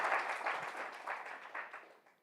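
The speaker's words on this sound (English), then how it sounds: "Can we first have just a huge round of applause for Victoria, masterfully taking us through" Brief, fairly soft round of audience applause at a panel event on gameplay and healthcare, clapping in uneven bursts that tapers off toward the end.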